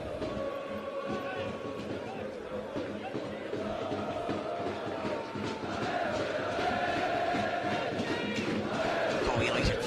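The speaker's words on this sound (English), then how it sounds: "Galway United crowd in good voice" A Galway United football crowd in a home match against Cork, a dense sustained roar of chanting and cheering that swells slightly toward the end.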